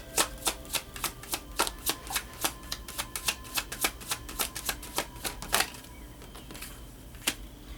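Tarot cards riffled and snapped down one after another in a quick, crisp series of dry flicks, close and fairly quiet, tapering to a few isolated slaps near the end.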